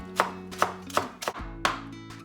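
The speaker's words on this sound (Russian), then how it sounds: "Зелень нарезаем мелко." A knife chops fresh cilantro on a cutting board, about five crisp, close strikes at a steady, unhurried pace with no talking.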